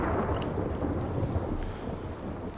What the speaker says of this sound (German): das Gewitter vom Jule ist jetzt auch hier im Spiel angekommen